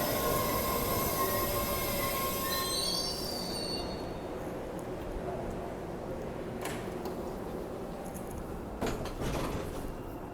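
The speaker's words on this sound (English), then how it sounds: "Mind the yellow platform line. Here comes the train" Train pulling into a station platform with a loud high-pitched wheel squeal at first, fading to a steady rolling rumble with a few clunks as it slows.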